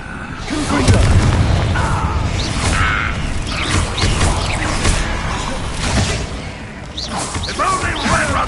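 Confringo blasting spell explosions in the Hogwarts Legacy video game, a dense stretch of booms, crackling bursts and whooshes amid combat clatter, with voices and shouts mixed underneath.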